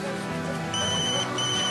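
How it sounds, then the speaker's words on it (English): A mobile phone rings indoors with a steady electronic ringtone, its tones repeating in two short bursts and holding at moderate loudness with no talking. "Why is your phone constantly going off anyway?"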